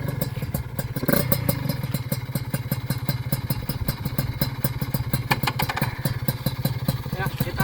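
A motorcycle engine fitted with a PWK 30 carburetor reamed to 32 runs close during a test ride, a rapid, even, loud pulsing beat with a brief rev surge and clattery mechanical texture throughout.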